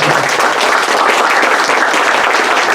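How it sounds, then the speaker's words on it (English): A crowd at a Universal Day of Peace gathering in Mexico applauds loudly, a dense sustained roar of clapping that holds steady from start to finish. "we should applaud the Mexican people"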